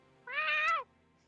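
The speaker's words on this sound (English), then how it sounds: "Thanks for the meow redeem." A single short cat meow sound effect triggered during a game stream, one clear, close, rising-and-falling mew standing alone over a faint quiet background.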